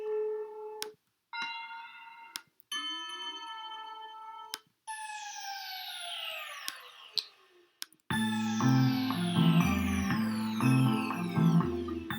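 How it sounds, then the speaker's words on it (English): A synthesized descending sound effect made in Logic Pro X: bright tonal sweeps glide downward in several separate bursts with gaps between them, then a dense layered section with pulsing low tones takes over, loud and clear with no voices. "in this sound, it's like a descending sound effect"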